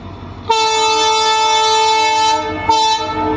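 A train sounds a loud, close, steady horn blast of about two seconds, then a shorter second blast after a brief pause.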